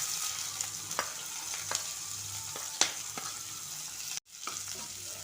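Onion goes into hot oil with mustard seeds, cumin, urad dal and cashews in a pan, crackling and sizzling steadily while a spatula stirs with a few sharp scrapes, then briefly cuts out.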